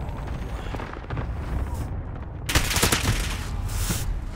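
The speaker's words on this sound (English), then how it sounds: "Enemy cluster strike incoming." Cluster strike explosions in Call of Duty, a burst of rapid blasts and crackling impacts erupting midway through, layered over continuous gunfire and game noise.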